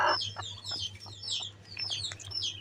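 A hen sitting on a clutch of ten eggs clucks in low, repeated murmurs close by, while higher chirping calls from other birds sound around it; no one speaks.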